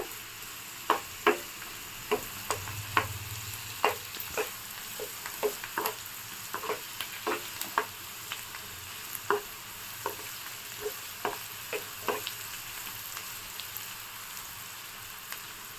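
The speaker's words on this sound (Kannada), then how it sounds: "2 ಹಸಿಮೆಣಸಿನ್ಕಾಯಿನ ಹಾಕ್ಕೊಂಡು ಫ್ರೈ ಮಾಡ್ಕೊಳ್ಳಿ" A soft sizzle of green chillies frying in a pan, broken by frequent sharp scrapes and taps of a spatula stirring at an uneven rhythm.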